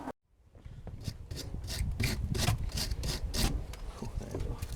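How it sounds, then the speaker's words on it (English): Wire brush scrubbing a rusty wheel from a 1990s Mongoose BMX scooter recovered from a river: rhythmic back-and-forth rasping strokes, close and fairly quiet, after a brief silence. "Let's get a wire brush."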